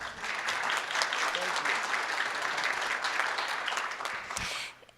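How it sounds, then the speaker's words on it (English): A convention audience at a state LULAC gathering applauds, a loud, sustained burst of dense clapping that holds steady for several seconds and then tapers off abruptly at the end. "Applause, please."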